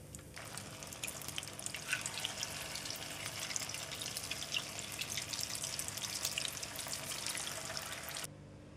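Potato fritters (punugulu) deep-frying in hot oil give a dense, steady crackling sizzle with scattered pops, continuous and close, with no talk, cutting off abruptly near the end.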